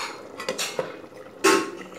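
A metal lid clatters onto a pot of chicken curry, with a few light clinks and then one sharper knock as it settles, faint and close in a quiet kitchen.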